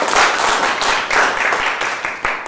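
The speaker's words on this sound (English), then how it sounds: "Let's give him a big round of applause." A room full of people bursts into loud, close applause at a funding talk, many hands clapping densely and evenly throughout.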